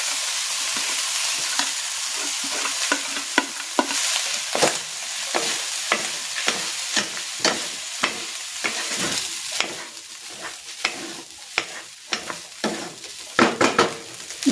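Cooked rice being stir-fried for chicken fried rice, a steady sizzle with frequent scraping and tossing strokes of a spatula against the pan, close up and continuous.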